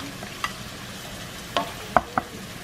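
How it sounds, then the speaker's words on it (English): Onions, celery and green onions sautéing in a well-seasoned pan, a soft steady sizzle under a few light clinks and scrapes of a utensil stirring, close by. "into my very well seasoned pan, and I'm gonna saute those onions up"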